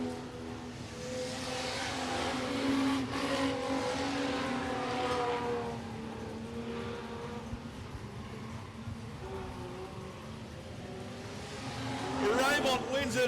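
Race cars, including a Ford Cortina, circle Gympie Speedway in a Queensland Modified Production night race, engines droning and rising past at a distance under continuous commentary, with a sharper rev swell near the end.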